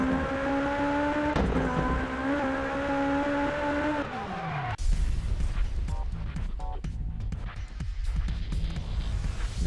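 Lancia Delta S4 rally car engine in Sebastien Loeb Rally Evo, a loud high-revving whine with gear shifts that drops off sharply, followed by rough gravel rumble, skids and clattering impacts.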